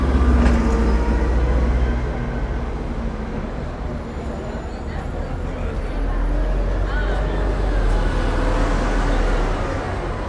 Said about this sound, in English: You can see the buses coming through now.